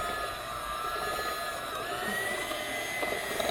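Hamilton Beach hand mixer beating sugar and eggs, a steady close motor whine held without a break from start to finish.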